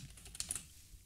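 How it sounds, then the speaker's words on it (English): A computer keyboard gives a quick, faint run of close key taps lasting about a second with no voices. "Just type here."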